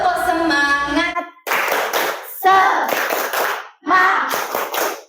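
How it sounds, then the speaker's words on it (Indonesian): A classroom of students performs a rhythmic group clap, a Malaysian-Indonesian 'tepuk semangat' cheer, with a teacher's voice leading first, then bursts of synchronized clapping in short patterned phrases separated by brief pauses. "Tepuk semangat dulu ya"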